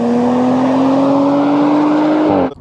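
An Audi RS4 twin-turbo V6 running on ethanol accelerates from a standing start, engine droning loudly and steadily, pitch creeping upward as it pulls away, then cutting off abruptly near the end.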